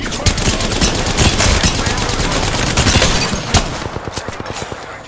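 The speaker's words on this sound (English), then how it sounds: "Taking fire." Rapid automatic gunfire in the video game Apex Legends, loud dense bursts of shots nearly continuous, then thinning into separate cracks toward the end.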